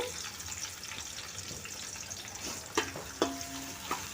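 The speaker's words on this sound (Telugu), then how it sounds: "చిన్నగా కట్ చేసిన ఆనియన్స్ అయితే వేసుకున్నానండి" Finely chopped onions, about 300 grams, sizzle in a pan as khichdi is cooked. The frying hiss runs steadily, with a couple of sharp metallic clinks and stirring sounds near the end, and no voices.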